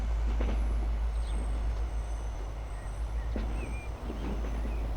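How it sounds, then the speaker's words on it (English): Wheels of a train in the Transport Fever video game squeal faintly as it crawls slowly around the Brusio spiral viaduct, with thin high-pitched squeals over a steady low rumble of rolling stock. "This is where you get the squealing noises."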